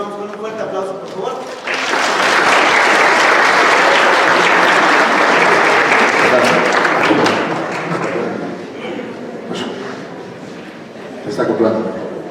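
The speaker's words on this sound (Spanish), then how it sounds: "les damos con un fuerte aplauso, por favor" Loud audience applause breaks out after brief talk in a lecture hall, swelling and holding for several seconds before tapering off as a voice resumes.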